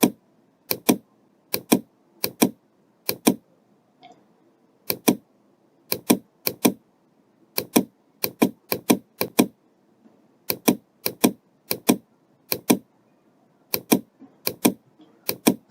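A Focus Alpha-Jet A2 UV printer prints a white varnish layer, giving rapid clusters of sharp, loud mechanical clicks in an irregular rhythm with brief gaps, close by and with no voices.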